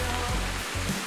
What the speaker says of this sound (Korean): 비선폭포입니다